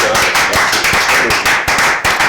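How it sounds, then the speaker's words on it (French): Audience applause for a singer, loud and dense, with rapid overlapping claps and a few sharper individual hits standing out near the front. "Des applaudissements"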